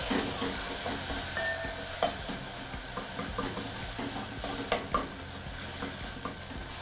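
Food frying and browning in a pan while cooking a baby's meal, a continuous loud sizzle with occasional light stirring clicks, close up and without voices.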